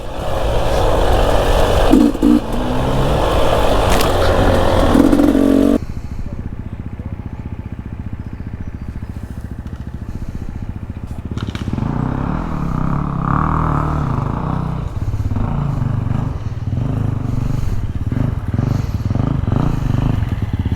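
A 350 Six Days and Beta motorbike climbs a hill climb sprint course, the engine loud and rasping for the first few seconds, then a steadier, quieter motor drone with fluctuating revs.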